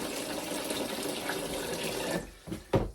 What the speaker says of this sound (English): Then I add hot water to dissolve citric acid.